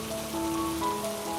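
Steady rain falls on a surface as an even, continuous hiss, with faint tonal tones running underneath.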